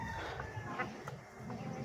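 Chickens cluck softly in the background over a steady low hum, a few short calls scattered across the moment.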